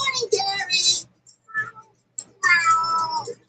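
Gary the snail from SpongeBob gives short cartoon meows in three bursts, the first and last longer and close, with a brief faint one between, no talk over them.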